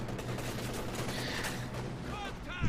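Machine gun squad fire in Company of Heroes 2, a dense continuous rattle of rapid shots blending into a steady roar, with a few ricochet-like whines near the end.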